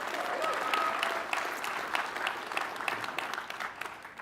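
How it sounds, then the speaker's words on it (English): An audience at a talk applauds in a dense, steady wash of many hands clapping, moderately loud and slightly distant, filling the room without speech. "Yeah, you can clap for that."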